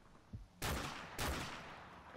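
Two sharp, loud rifle cracks from a Dragunov sniper rifle in Modern Warfare Remastered, spaced about half a second apart, each trailing off into a long echoing tail.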